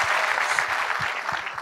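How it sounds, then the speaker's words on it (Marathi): Applause from a crowd at a Marathi stand-up comedy show, steady dense clapping throughout without voices on top. "या दोघांसाठी टाळ्या वाजवा एकदा."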